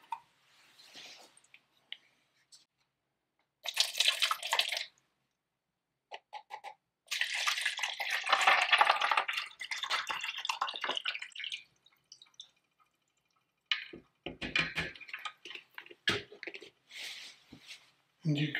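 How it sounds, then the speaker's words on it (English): Crystal-growing solution poured carefully over rocks in a small crystal aquarium: bursts of splashing, dripping liquid with wet plops, starting and stopping, close and moderately loud with stretches of quiet between. "So now we need to very carefully pour it over our rocks, trying not to displace them."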